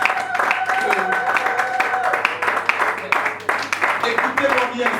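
During a Sunday church gathering, the congregation keeps up lively, rhythmic applause in praise of the Lord, many hands clapping loudly and evenly, with voices calling out and a steady tone underneath throughout.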